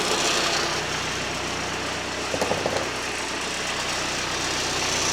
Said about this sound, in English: You can hear the engine note change